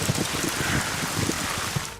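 Steady, dense rain pours down in a movie kissing scene, a close, broad hiss of drops with faint low patters throughout.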